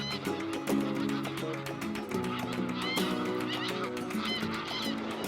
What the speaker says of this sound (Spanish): Una de las especies más abundantes es el ánsar común